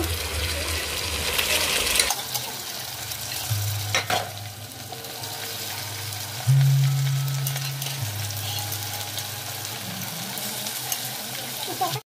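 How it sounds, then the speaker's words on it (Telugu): Boiled mutton goes into a hot pan for nawabi mutton biryani and is stirred, giving a steady sizzle with scraping and stirring noises and a brief hissing burst partway through. "మటన్ వేసుకుంటున్నాను."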